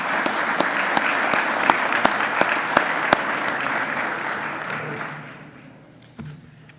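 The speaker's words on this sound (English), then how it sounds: "Please give her a nice round of applause." A conference audience in New York applauds with dense, lively clapping and some crisp standout claps, then the applause thins and fades out near the end.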